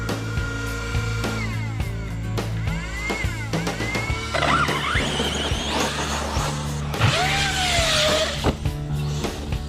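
An Arrma Kraton v4 6s monster RC truck driving hard, with a loud electric motor whine that swoops up and down in pitch, tires scrabbling and bursts of gritty noise as it accelerates and bashes around close by.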